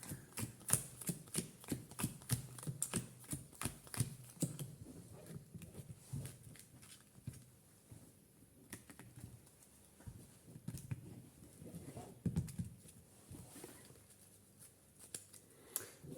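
A deck of trading cards is shuffled by hand up close, a quick run of rhythmic riffling snaps for several seconds, then softer scattered card clicks and rustles.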